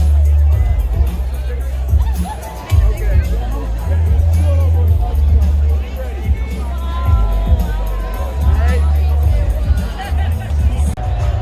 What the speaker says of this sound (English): Now the crowd's dispersing.